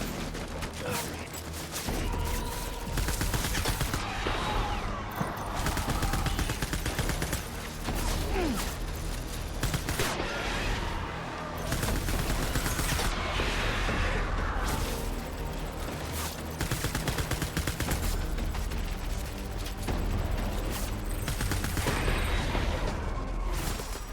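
Video game firearms fire in loud, rapid bursts and sustained volleys that run almost without pause, with sharp cracks layered over a dense, continuous barrage.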